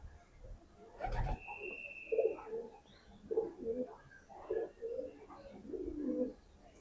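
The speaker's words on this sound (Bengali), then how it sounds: "আর খুব সুন্দর একটা কবুতর" A prized, high-flying pigeon of a fine breed coos in a series of soft, rhythmic calls at close range, with a brief louder knock near the start.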